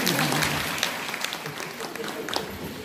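Applause from a packed hall at a Shiv Sena women's rally on International Women's Day, a dense, steady clatter of many hands that carries through the whole stretch.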